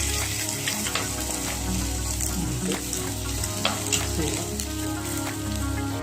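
Steady, close sizzling of onions frying in hot coconut oil for a crab curry, a dense crackle that holds throughout with no talking.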